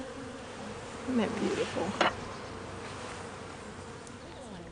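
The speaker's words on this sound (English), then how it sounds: "Then they get to handle the bees and they get to be with them." Honeybees buzzing around a hive, a steady insect drone with louder passes close by. Brief speech is heard.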